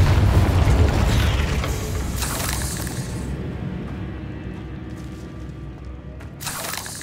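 Spell explosions from a Harry Potter video game, with fire and blasting spells set off in quick succession, give dense, rumbling booms and bursts over a roaring background that slowly fades, then a fresh burst near the end.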